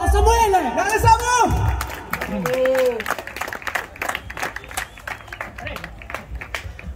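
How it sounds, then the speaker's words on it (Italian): An audience claps and cheers for Samuele at a live music show, with a loud, dense burst of applause and whoops running throughout while a voice calls out over the crowd. "Facciamo un applauso a Samuele!"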